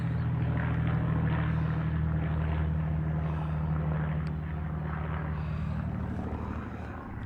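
A propeller airplane flies overhead on a riverside walk, its steady droning engine loud and close, then slowly easing off as it passes, with no talking.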